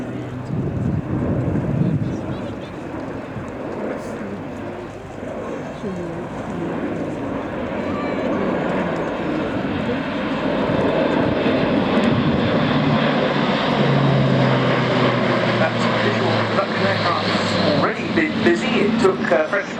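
An Airbus A400M military airlifter flies at the RIAT 2013 airshow, its turboprop engines producing a loud, sustained droning roar that swells and shifts in pitch as it passes, with wind buffeting the microphone and voices underneath.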